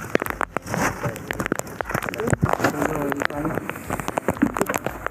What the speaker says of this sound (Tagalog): napakalakas na ulan